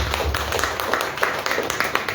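A church congregation claps together at a Resurrection Sunday service in Goa, a steady run of brisk, overlapping hand claps filling the room at moderate loudness with no voices over it.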